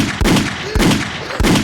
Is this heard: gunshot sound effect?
yes